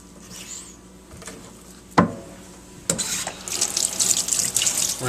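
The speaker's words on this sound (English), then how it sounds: "Rinse it off." Kitchen tap water runs over a catfish belly fillet in a sink, a close splashing gush that starts with a knock and swells into steady rinsing spatter, with no talking.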